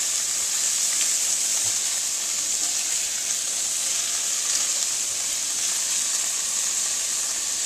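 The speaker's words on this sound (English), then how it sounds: "when I give it a gentle stir, taking care again to try not to break it up too much" Mee goreng noodles with tofu gently stirred in a hot pan, giving a steady, close sizzle and frying hiss that runs unbroken throughout with no talking.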